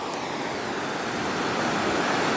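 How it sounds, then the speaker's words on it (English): The Ausable River runs high in spring flood, a dense, steady rushing roar of fast water that is continuous and fairly loud, with no voices. "The water is definitely high passing through Ausable here."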